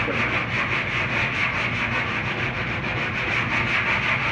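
Duraglas body filler on a car panel being hand sanded, a steady rough abrasive scrubbing with rhythmic back-and-forth strokes, close and continuous throughout with no talking.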